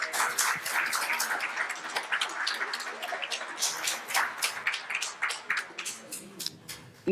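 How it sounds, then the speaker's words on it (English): Small audience clapping as guests leave the stage after an author interview, a light rapid patter of claps that thins out and fades toward the end. "Give them guys a round of applause as they leave the stage."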